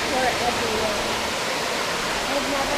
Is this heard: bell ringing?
no